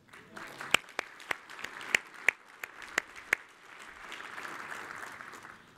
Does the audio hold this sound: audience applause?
yes